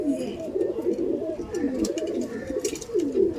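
Pakistani Teddy pigeons cooing nearby in a low, rolling, repeated burble, several birds overlapping continuously, with faint voices in the background.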